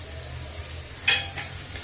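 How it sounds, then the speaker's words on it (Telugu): Dried red chillies with stems drop into hot oil with browned garlic, a soft continuous sizzle near the mic, broken by a sharp clink or stir about midway, with no voices. "ఇప్పుడు ఎండుమిరపకాయలు మూడు కానీ నాలుగు కానీ తుంచుకుని కాడలతో పాటు వేసుకుందాం"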